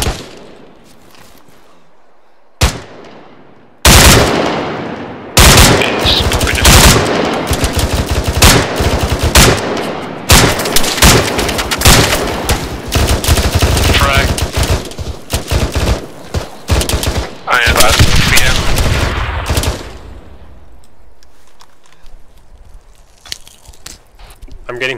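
Dense bursts of rifle and machine gun fire from suppressing fire in the Arma 3 military shooter crackle loudly for about fifteen seconds, with players talking over the shooting before it fades to quieter ambience.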